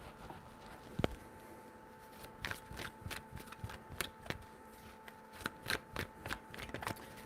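Tarot cards are shuffled by hand in quick bursts of crisp riffling and slapping, a close, soft series of clustered rustles with brief pauses between them.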